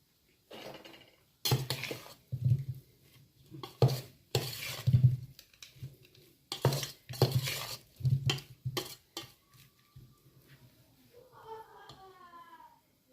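Amla gooseberries tipped into a pickle masala and stirred, giving a run of close, repeated scraping and clinking strokes from a spoon against the pot, with a few quieter pauses between bursts.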